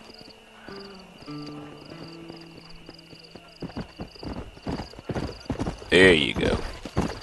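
Hooves of a horse in the video game Red Dead Redemption clop in a quick, rhythmic gallop, joined by a loud whinny near the end, with someone talking over the ride and a soft electronic tone in the background.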